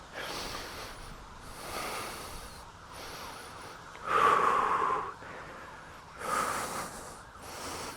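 Heavy, rhythmic breathing during a full-body back strength workout, with a few loud bursts of exhaled breath standing out above softer steady breaths, close and with no talking.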